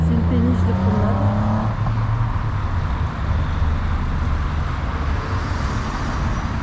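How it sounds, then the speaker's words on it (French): Heavy road traffic in Avignon rumbles continuously and loud, with engines humming nearby and a vehicle droning past early on while people talk over it. "Il y a une circulation incroyable."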